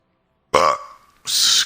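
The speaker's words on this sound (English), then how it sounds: "Burped." A single loud burp from a person, a voiced croak lasting under a second, followed by a brighter breathy burst, both close and alone in silence.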